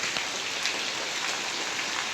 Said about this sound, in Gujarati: ફાઇનલ મિત્રો એટલો બધો વરસાદ આવે છે